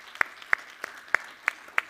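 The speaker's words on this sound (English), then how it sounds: "Let's give them a round of applause, please." At an awards ceremony, a handful of single, sharp hand claps ring out at a steady, unhurried rhythm, close and fairly loud, rather than a full burst of crowd applause.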